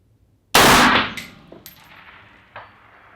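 A single loud rifle shot cracks out at a long-range target, followed by a ringing decay and a few fainter echoes or distant metallic clangs trailing off over the next two seconds.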